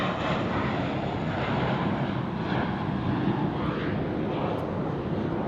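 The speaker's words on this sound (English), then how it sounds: "What a nice cool plane." A jet airliner roars past at LAX, loud and steady, with a broad engine rush and whine that holds throughout and no speech over it.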